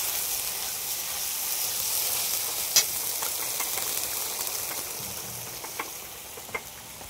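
Ginger garlic paste frying in a pan at an open-air field cookout, giving a steady loud hiss with a few faint clicks and taps scattered across it.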